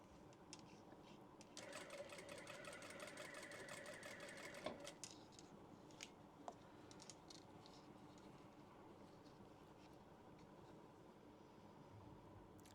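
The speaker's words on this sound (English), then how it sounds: "We're just sewing these two pieces together." Sewing machine stitching two scrunchie fabric pieces together, running steadily for about three seconds at a slow pace, then stopping, leaving faint handling noise and light clicks in a quiet room.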